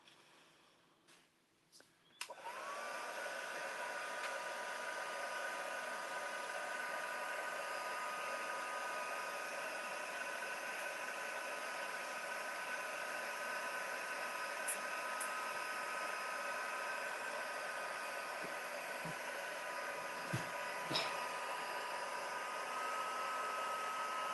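A handheld heat dryer blows steadily over a mixed media card, starting abruptly after a few quiet seconds and then running as a loud, continuous whirring hiss with a few faint clicks and no talking.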